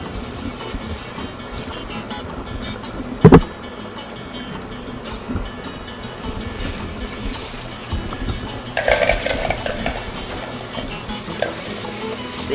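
Chopped garlic fries in olive oil for a rice and lamb dish, a continuous close sizzle with a loud knock of a utensil near the start and bursts of scraping stirring later.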